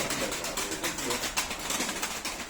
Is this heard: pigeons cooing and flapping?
yes